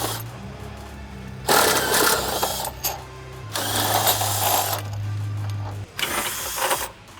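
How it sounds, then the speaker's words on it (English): Bolts being driven into Barricade rock sliders on a 1997-2006 Jeep Wrangler TJ, likely with a power tool or ratchet: three sustained mechanical whirring bursts, each a couple of seconds long, with a steady low motor hum, close and fairly loud. "now we're going to take our supplied hardware and bolt in the rock sliders"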